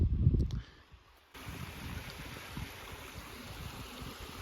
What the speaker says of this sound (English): Look at the water coming out of this thing, and yet it all goes subterranean.